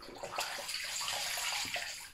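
Water splashing and running steadily as a face is rinsed during an evening skincare routine, a close, continuous wet rush with small splashes throughout and no talking.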